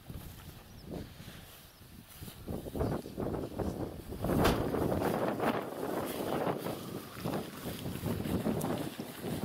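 Gusty wind buffets the microphone in rumbling, uneven bursts from a rowing boat on choppy water, with water sounds lapping underneath throughout.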